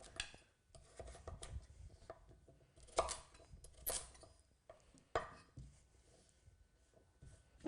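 Knife chopping swede on a board, a few sharp, irregular thunks and scrapes close by amid quiet kitchen handling noise, with no talking.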